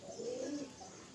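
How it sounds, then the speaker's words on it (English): A pigeon or dove gives a single faint, brief coo among birds gathered to feed on scattered mung seeds. "There are so many birds actually."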